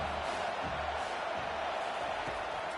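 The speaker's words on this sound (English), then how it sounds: "Decibels rising as the crowd gets behind this defense on 3rd down." Stadium crowd at an NCAA football season opener, Old Dominion vs South Carolina, roaring for the defense on third down: a dense, steady wall of cheering that holds at an even level throughout, with no break.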